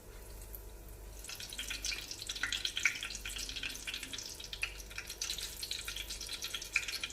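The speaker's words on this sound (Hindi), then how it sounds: "अब हम लिहाजा इसमें डोनट्स डालना स्टार्ट करते हैं अपने" Donuts frying in moderately hot oil, a steady soft bubbling sizzle with scattered small crackles and pops, close and continuous throughout.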